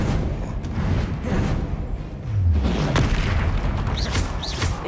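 Confringo blast spells going off in Hogwarts Legacy on PS5: heavy low booms and rumbling bursts roll one into another across the stretch, loud and close, with some swishing effects on top.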